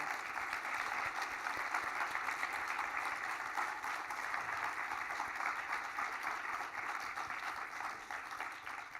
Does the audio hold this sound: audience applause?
yes